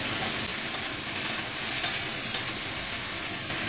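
Cauliflower pieces frying with a little salt in a pan give a steady, close sizzle with occasional soft stirring scrapes.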